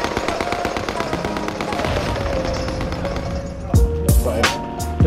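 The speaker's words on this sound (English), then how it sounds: "Sending a frag out." A frag grenade goes off in Warzone on the Caldera map with sharp, close explosive bursts near the end, following steady gunfire-like clatter and background game music.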